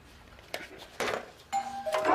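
A doorbell chimes in a few separate rings, each a bright tone rising above a quiet room, the last ones ringing out clearly.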